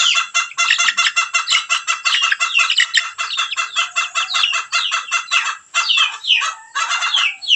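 Several red junglefowl cockerels crow and squawk in rapid, overlapping bursts, loud and close, with brief gaps near the end.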